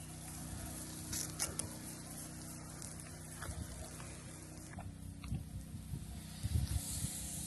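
A wildfire suppression system sprays an even mist of water from roof gutters, giving a continuous soft hiss and patter with a low steady rumble beneath, at moderate level throughout.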